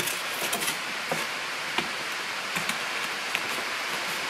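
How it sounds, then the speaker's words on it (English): Steady rain falls outside a workshop during a small boat build, a soft continuous hiss with a few faint drips and knocks scattered through it, and no voices. "So there's gonna be some rain noise outside."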